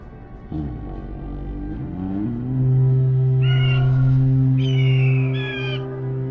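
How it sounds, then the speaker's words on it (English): Storm crows caw in a Warcraft 3 Night Elf cutscene, several harsh, tonal calls rising over a sustained low musical drone, close and clear, with no talking. "Let the storm crows fly once again upon the winds of war."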